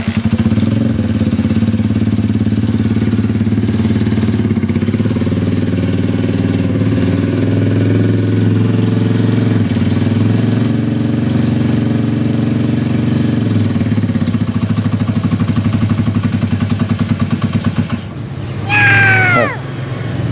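A Japanese-style motorcycle engine idling steadily and loud up close with a suspected piston problem, then a sharp rising rev near the end as the throttle is opened before dropping back.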